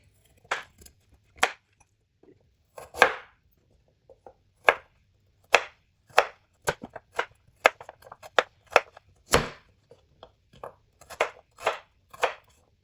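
Knife chopping carrots and potatoes into even pieces on a board for a dhaba-style karahi aloo gobi, sharp separate chops in uneven bursts, close and clear with no talking.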